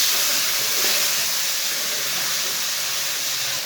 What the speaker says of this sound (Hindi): टमाटर डाल के 3 मिनट तक पका लेंगे।